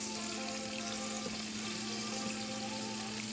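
Mahi mahi fillet sizzling in a pan, a constant dense hiss with a steady low hum underneath, even and unbroken throughout.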